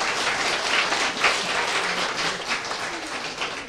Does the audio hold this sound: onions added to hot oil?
no